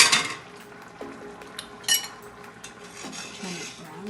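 A spoon scrapes and clinks against a pot while stirring a simmering Kerala-style vegetable stew of pumpkin and potatoes, a few sharp metallic knocks over soft continuous bubbling and rubbing, close by.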